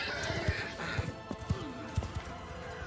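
Galloping horse in a battle in the video game Mount and Blade 2: Bannerlord: steady, evenly spaced hoof thuds drum through the clip, with a rising-and-falling whinny in the middle, close and fairly loud over busy battlefield background noise.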